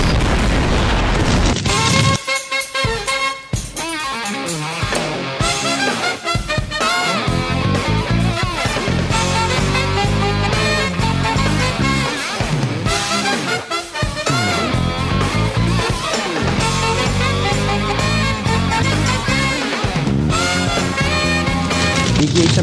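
Continuous loud booming video game explosions in Garry's Mod, crashing bursts one after another with little pause, dense and rumbling over a busy backdrop.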